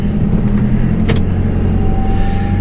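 A 4WD with rear locker engaged crawls in first gear low range over an edge on a steep Walhalla high-country track: a close, steady low engine rumble with a brief knock partway through.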